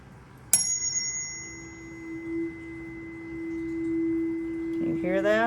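Pure sine tone sounding through a resonance tube in a speed-of-sound lab, a steady sustained note that swells and fades slightly over several seconds after a sharp ringing strike, with a sliding tone at the end.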